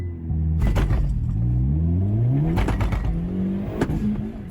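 Hyundai Elantra N with a manual gearbox doing a launch, the engine revving hard in rising sweeps that climb, dip and climb again, loud and close, no talking.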